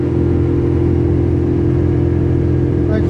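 A John Deere 4066R tractor running a Frontier SB1174 snow blower through compacted drifts, a steady deep engine rumble with a constant droning hum, close and unbroken.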